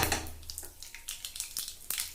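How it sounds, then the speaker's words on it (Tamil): Mustard seeds sputter and crackle in hot groundnut oil in a pan, a quick run of sharp, fairly close pops over a low sizzle. "கடுகு நல்லா பொரியட்டும்."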